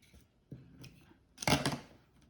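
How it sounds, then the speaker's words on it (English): Scissors make a couple of small snips through copper conductive tape for a paper circuit, quiet and close, the second cut louder and crisper. "Take your scissors and make a little cut,"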